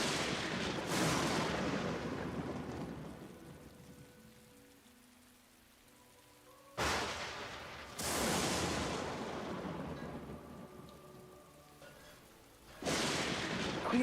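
Steady stormy rain ambience for a tabletop fantasy game session, with sharp bursts like thunder cracks breaking in at intervals before easing back into continuous downpour hiss; no talking.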